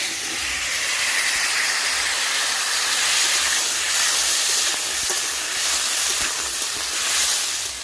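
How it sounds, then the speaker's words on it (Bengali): Cut elephant foot yam is dropped into hot oil left from frying fish and hisses loudly and continuously, a dense, close, steamy sizzle with little variation. "মাছ ভাজা তেলের মধ্যে কেটে রাখা ওলগুলো আমি দিয়ে দিচ্ছি"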